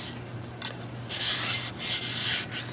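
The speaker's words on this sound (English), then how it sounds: "you're gonna give it a light sanding." Steady back-and-forth rubbing of sandpaper on a cup, a light sanding, close up, in soft scratchy strokes with no talking.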